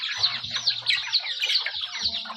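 Several chickens cluck and squawk close by in a dense, continuous chatter, with no talking.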